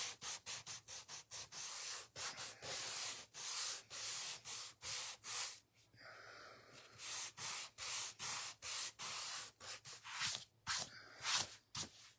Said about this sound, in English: and we'll have all four sides sanded